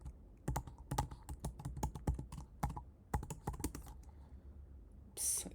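A password is typed on a computer keyboard: a brisk run of distinct, close keystroke clicks in an irregular rhythm with brief pauses, quiet and with no voices.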